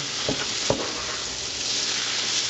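Onions fry in a pan for French onion soup, giving a steady, close sizzle with a couple of brief stirring scrapes near the start.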